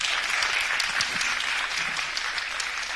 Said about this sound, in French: sous vos applaudissements toujours nourris.